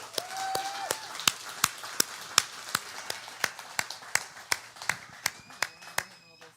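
A church congregation claps for a guest called up during a Tennessee morning service, giving roughly twenty sharp, evenly spaced claps over several seconds at moderate distance, with a faint tone and quiet background murmur.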